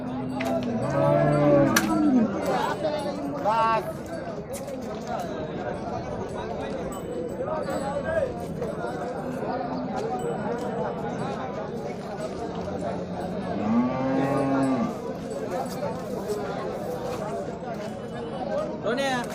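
HF cows moo repeatedly amid a noisy crowd at a cattle market in Chakan, with people chattering and calling nearby throughout.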